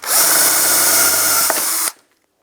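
A power drill whines loudly and steadily for about two seconds while drilling out license plate bracket rivets on a 2010-2016 Cadillac SRX, then cuts off abruptly, leaving near silence.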